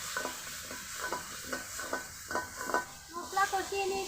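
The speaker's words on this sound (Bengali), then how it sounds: "মশলা কষিয়ে নিয়েছি" Biryani spice paste stir-fried in a pan, with a steady soft sizzle and rhythmic scraping of a spoon stirring the masala, fairly quiet and close, with no talking.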